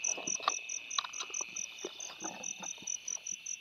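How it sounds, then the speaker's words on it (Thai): Grasshoppers in the morning chirp in a rapid, regular series of high, thin pulses, steady and close, with faint scattered clicks and rustles beneath. "ตักแตน"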